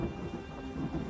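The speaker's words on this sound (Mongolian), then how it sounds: "Тэнгэрийн дуу алсад нүргэлж аадар бороо цутгасаар" Thunder rumbles in the distance while heavy rain pours down in an audio drama, a low, fairly faint, continuous wash with no voices.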